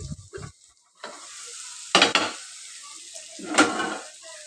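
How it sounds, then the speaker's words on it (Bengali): Food sizzles steadily in a hot pan while a utensil stirs and scrapes it, with a few sharper knocks and louder surges of frying over a short stretch. "ভাজা করছি।"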